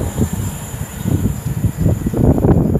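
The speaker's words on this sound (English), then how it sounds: "the train frightened the life out of me by blasting the horn at me like that" A passenger train runs past at Rugby on the West Coast Main Line, its wheels rumbling and clattering in uneven pulses that grow heavier toward the end.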